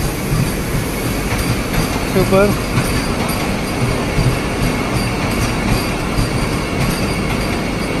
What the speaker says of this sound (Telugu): వందే భారత్ ఎక్స్ప్రెస్ ట్రైన్ కూడా ఇదే టైంకి వచ్చింది. సో అది కూడా కవర్ చేస్తున్నాను చూడండి. మన ట్రైన్ బయలుదేరుతుంది.